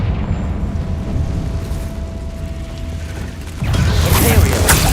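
A Confringo fire spell in Hogwarts Legacy: a loud, sudden eruption bursts in partway through and rolls on as a broad crackling blast over mechanical game rumble.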